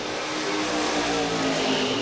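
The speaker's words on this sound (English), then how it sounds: "Nice wheels up launch for Bastinelli." A Chevrolet Nova drag race car launches wheels up at a dragstrip, its engine roaring loud and steady for a couple of seconds, with crowd and track noise around it.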